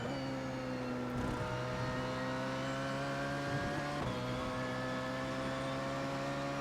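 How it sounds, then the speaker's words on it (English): A Porsche 919 race car in the iRacing simulator at Le Mans brakes hard and drops down through the gears, its engine tone stepping down in pitch with a blip near the start and another midway, loud and continuous with no talk. "Braking down to third gear."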